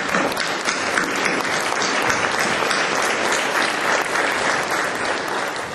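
An indoor audience applauds military families at a briefing, a dense, steady burst of clapping from many hands that stays loud and even throughout.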